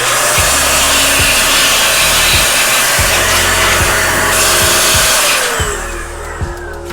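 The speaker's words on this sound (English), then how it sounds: "using this duster, I don't have to dismantle the grinder" A computer air duster blasts a loud, steady hiss into the built-in grinder of a Breville Barista Express BES870 espresso machine. The rush is close and continuous, with a few soft knocks underneath, and it trails off near the end. No one speaks.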